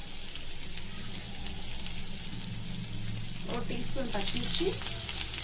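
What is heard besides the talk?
frying ginger, garlic and green chilies in oil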